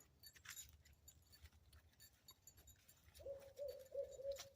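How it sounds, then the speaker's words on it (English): An owl hoots outdoors in daytime, a short series of rounded repeated calls arriving near the end, moderately clear over quiet background rustling and jangling. "That's an owl. Sacred owl."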